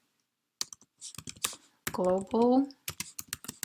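Keys on a computer keyboard clatter in short bursts of close, crisp clicks while a git config command is typed, and a voice speaks briefly partway through.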